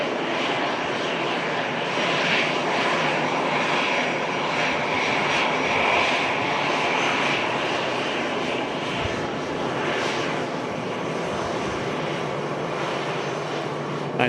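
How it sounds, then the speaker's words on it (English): An Airbus A320 jet landing at Manchester Airport, a loud, steady engine roar that holds close and constant throughout with no voices. "Doing a great job flying the Airbus A320 into Manchester."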